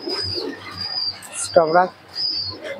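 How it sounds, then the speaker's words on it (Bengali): Kalsira pigeon cooing close by, a short throaty burst standing out among soft chirps, with a brief spoken remark nearby. "একটা কালসিরা পায়রা"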